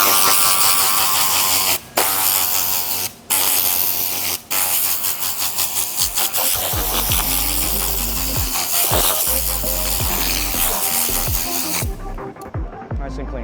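A handheld air blower roars steadily as it cleans a car floor rug during detailing. The loud, hissing blast holds nearly unbroken, with a few brief dips, and speech is faintly mixed in.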